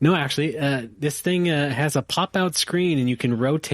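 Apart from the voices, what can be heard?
None of the usual background noises is heard.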